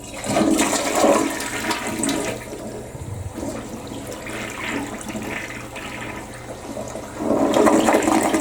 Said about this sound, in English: We'll flush it.